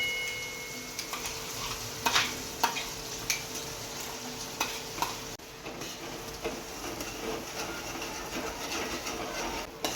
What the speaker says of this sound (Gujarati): હવે આને 5 થી 7 મિનિટ સુધી આમ સાંતળવાનું છે, એકદમ ધીમા તાપ ઉપર.